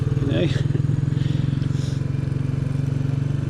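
A Royal Enfield Bullet 350 motorcycle engine drones steadily at close range while riding, a low continuous rumble, with a voice speaking briefly over it near the start.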